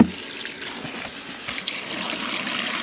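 Water runs steadily from a new faucet in a house under construction, a soft continuous trickling splash heard alone at close range.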